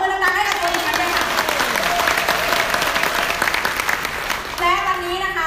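Audience applause at a Giffarine sales team meeting in Thailand, loud and dense for several seconds, with scattered cheers and a voice rising over the clapping near the end.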